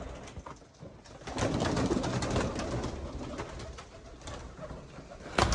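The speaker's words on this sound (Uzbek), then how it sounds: "akalar mana kaptar ekan" Pigeons coo softly and steadily through a rustling outdoor background, the calls fairly close and continuous rather than isolated.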